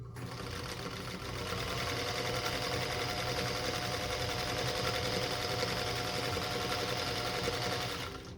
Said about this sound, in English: So now I'm just going to sew 1/4 inch on each side of that marked line.